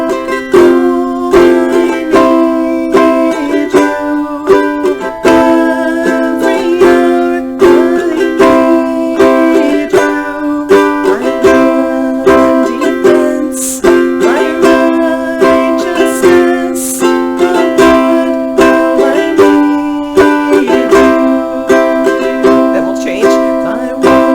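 Steady ukulele strumming with chords struck at a relaxed, slowed pace, full and close, with no talking.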